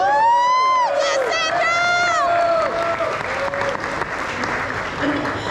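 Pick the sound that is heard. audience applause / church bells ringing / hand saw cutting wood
audience applause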